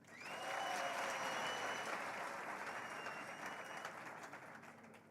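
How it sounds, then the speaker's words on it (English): An audience at a university public lecture on youth leadership claps to welcome an esteemed guest: dense, steady applause from a large crowd heard from some distance, sustained for several seconds and slowly easing, with a faint tone over it. "please join me in welcoming our esteemed guest with a round of applause"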